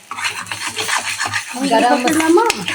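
Four cooked eggs are lightly stirred in a pan for a raw banana and egg poriyal, with rhythmic scraping and soft clatter of a spoon against the pan, close and moderately loud.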